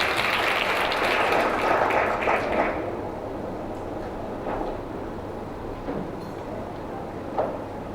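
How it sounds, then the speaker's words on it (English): An awards ceremony audience at the Zuri Awards applauds loudly as a woman makes her way up to the stage, the clapping dense at first, then thinning into a softer, scattered patter that lingers in the hall. "Round of applause for her as she makes her way up"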